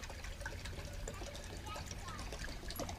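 Cold tap water poured into a beaker, a steady trickling splash running throughout, fairly faint, beside a stove test comparing a Coleman 533 with a butane portable stove.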